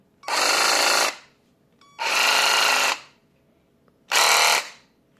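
A compact Ryobi One 18V cordless reciprocating saw runs in three short, loud bursts of about a second each, with its motor buzz cutting off abruptly and silence between runs.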